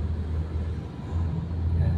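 Rush hour traffic in Barangay Moonwalk, Parañaque, rumbles as a dense, low, continuous roar of engines and passing vehicles, loud and close, with no distinct horns or talk.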